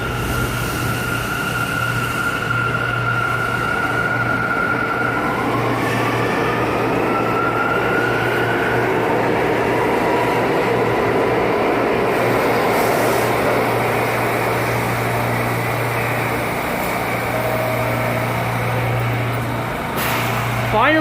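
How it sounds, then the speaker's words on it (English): An R179 subway train on the A and C line pulls out of the station with a loud, sustained rumble and steady low hum, a rising motor whine near the start and brief squeals along the way. "Finally, this train is now leaving."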